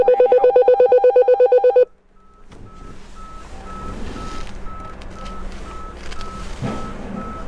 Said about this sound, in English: It's alarm. It is sending a routine call to the Raymarine radio.